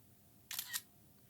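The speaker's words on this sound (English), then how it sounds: "there's a shutter sound from the Kandao QooCam EGO" Shutter sound from a Kandao QooCam EGO camera: two quick, bright clicks in close succession, crisp and near in a quiet room, followed by a faint tick.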